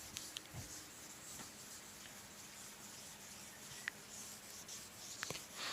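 Pen scratching on paper as a math question on quadratic equations is written out by hand, a soft, steady rasp with a few sharper taps, close and quiet with no talking.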